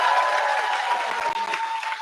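A crowd applauds loudly and steadily at a celebrity event, the dense clapping holding at an even level throughout with no break.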